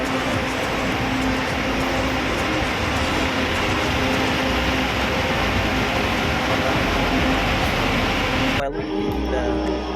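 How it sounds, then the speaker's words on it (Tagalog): Loud, constant roar of an MRT train running close by, with a sharp shift in the noise near the end as it changes. "ayan po yung MRT ayan po ako sasakay"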